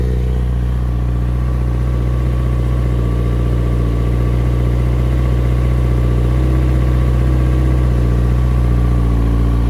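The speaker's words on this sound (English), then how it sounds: "It's starting to idle down." A 2019 Kawasaki Z900RS Cafe motorcycle idles up close, a steady, loud, low burbling engine rumble holding even throughout with no voices over it.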